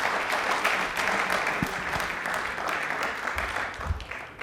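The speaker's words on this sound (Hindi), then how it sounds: "एक बार जोरदार तालियां हो जाएं" Studio audience applause on a televised quiz show, a steady burst of many hands clapping together, fairly loud and close, with a few thumps underneath.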